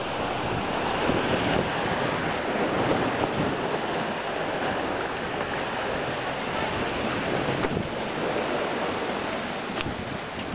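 Sea waves wash steadily against the rocks along the shore path of Lapad bay in Dubrovnik, a loud continuous surf roar with wind over the microphone.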